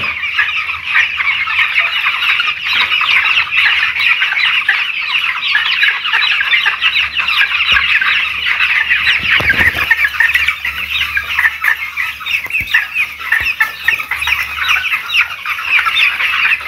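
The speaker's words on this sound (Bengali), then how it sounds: "প্রতিটা মুরগি মুখ দিয়ে শ্বাস নিচ্ছে।" Many chickens in a poultry shed during intense heat, panting through open beaks, cluck and chatter steadily together, a dense, continuous flock noise that stays loud throughout with no pauses.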